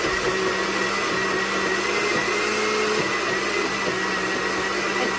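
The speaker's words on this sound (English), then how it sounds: "It's probably my blender" A blender runs steadily, loud and continuous, whirring through garbanzo bean chocolate chip cookie dough during a kids' cooking session, with a brief dip in the motor hum midway.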